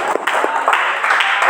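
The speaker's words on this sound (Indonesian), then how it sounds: "tepuk tangan" A university lecture audience applauding at a teaching session, a short burst of brisk clapping, fairly loud and close, fading unevenly over a second and a half.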